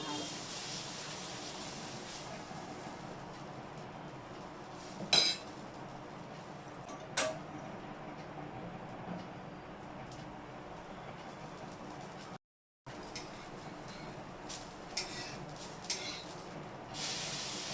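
A small sponge dosa for a tiffin-stall menu is spread on a hot pan, giving a soft, steady sizzling hiss with a few light metallic clinks of utensils against the pan.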